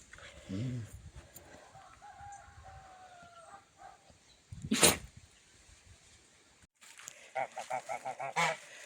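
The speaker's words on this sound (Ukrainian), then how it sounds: "Мої гусачки йдуть на на водичку" Geese honk outdoors by a pond in a series of nasal calls, a loud burst midway and rapid repeated honks near the end, with a rooster crowing faintly.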